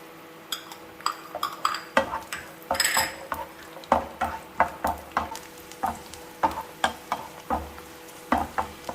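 Cashews and raisins fry in ghee in a pan, a continuous close sizzle punctuated by regular metal spoon scrapes and clinks, roughly twice a second.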